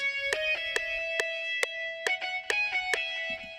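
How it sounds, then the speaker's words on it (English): An electric guitar plays a short melodic line of plucked notes at a steady pace, with a bright, effected tone and some lingering sustain. "so I added an electric guitar."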